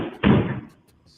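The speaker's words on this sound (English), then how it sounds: "As he leaks additional surveillance footage of Capo kicking out his studio door." A studio door is kicked in, caught on surveillance footage: a loud, heavy slam with a short rumbling tail, then quiet before a second sharp thud starts at the end.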